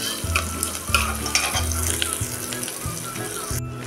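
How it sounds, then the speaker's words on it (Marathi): Onions sautéing in a pan until brown, a steady sizzle with repeated stirring scrapes and a low rhythmic hum in the background, close and continuous. "कांद्याला ब्राऊन रंग येईपर्यंत आपण हा असा परतून घेऊया।"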